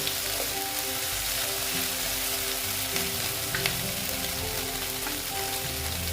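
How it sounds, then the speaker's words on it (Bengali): Ginger and garlic paste with onion sauté in a pan for katla kalia, a continuous moderate frying hiss with a few small crackles and stirring ticks, steady and close without speech. "দিয়ে ভালো মতন আমি এটা কষিয়ে নেব যাতে আদা রসুন পেঁয়াজের কোনো গন্ধ কাঁচা গন্ধ না থাকে"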